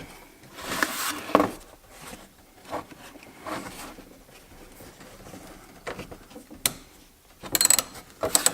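A 19 millimeter wrench clicks and scrapes against a bolt while a harness is fitted, giving scattered metallic taps and ratchet-like rattles at close range between quieter pauses.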